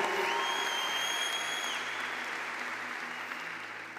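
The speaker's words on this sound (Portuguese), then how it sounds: "aplaude com vontade" A church congregation applauds in a broad, steady wash that fills the space and fades slightly toward the end.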